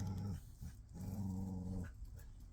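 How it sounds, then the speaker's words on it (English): Dogs growling and snarling in short bursts while play-fighting indoors, a playful rumbling scuffle with brief pauses between growls. "Excuse my dogs having their little puppy MMA fight over there."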